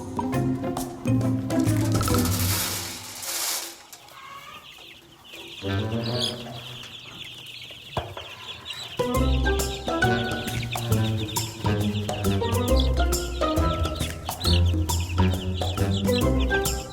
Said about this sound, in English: those are our meat chickens